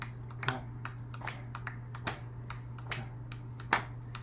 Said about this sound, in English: starting with our claps